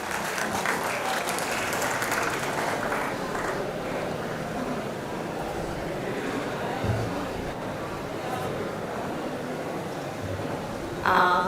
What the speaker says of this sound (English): Again with a big round of applause